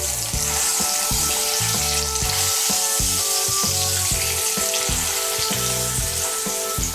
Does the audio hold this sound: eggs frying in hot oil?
yes